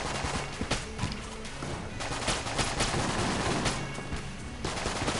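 Dense, continuous gunfire from the video game Enter the Gungeon, rapid overlapping shots with sharp cracks in a steady barrage filling the whole stretch, no talking.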